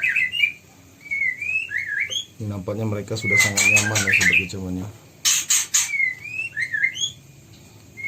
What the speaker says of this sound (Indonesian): ini anakan murai batu yang sudah berumur 1 minggu lebih ya